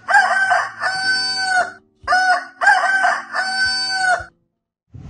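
A rooster crows loudly and close by, two long drawn-out cock-a-doodle-doo calls in a row, each with a rising start and a sustained ringing tail, followed by a short silence.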